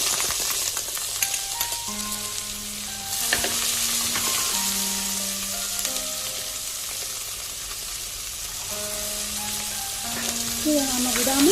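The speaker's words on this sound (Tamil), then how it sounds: "வெங்காயம் நல்லா ப்ரௌனாக மாறுற வரைக்கும் மீடியம் ஃப்ளேம்லேயே வதக்கணும்" Big and small onions sauté in a pan for a village-style mutton curry, a steady oily sizzle broken by scraping stirs, with background music playing throughout.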